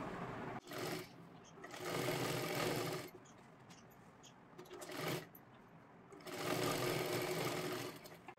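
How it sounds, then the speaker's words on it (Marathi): A sewing machine stitches fabric for a lehenga latkan in three loud, close bursts of fast whirring, separated by short pauses. "इथे आपण दोन्ही सुद्धा बाजूने व्यवस्थित शिलाई मारून घेतली आहे"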